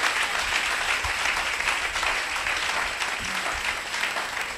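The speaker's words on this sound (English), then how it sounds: "A clap offering." A church congregation claps together as a clap offering, a thick continuous roar of many hands filling the hall at steady loudness, with a few low thumps underneath and no speech.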